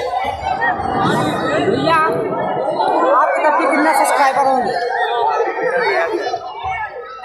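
Dense, close crowd chatter fills a Dussehra fair at Sarai Akil near two packed swings, with overlapping adult and children's voices, occasional shouts and laughter, loud and continuous.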